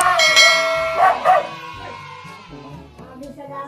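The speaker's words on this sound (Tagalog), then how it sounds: "Tali mo yung aso mo." A dog barks and yips a few times near a person, with a voice speaking over the barks in a Filipino roadside setting.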